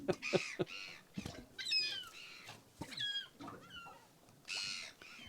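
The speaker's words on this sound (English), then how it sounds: "get him, Mr. Seagull" Seagull calls on a boat during a camping and fishing trip, a few squawking cries mixed with other bird sounds at moderate distance, with some scattered knocks and rustles in between.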